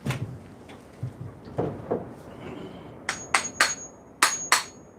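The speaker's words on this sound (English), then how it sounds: "It might be time to go for the hammer." Metallic hammer strikes ring out close by, a few scattered taps first, then two pairs of sharper, louder blows.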